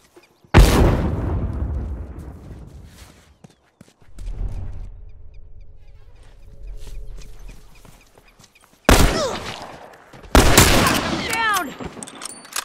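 Bomb explosion and gunfire in The Last of Us: sharp loud blasts with booming decays, separated by quieter stretches of rumble and distant shots, with voices talking in between.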